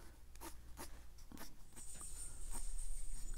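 A pencil sketches short lines on handmade watercolor paper, faint scratchy strokes in a loose repeating rhythm, close up and quiet, with a thin high tone appearing partway through.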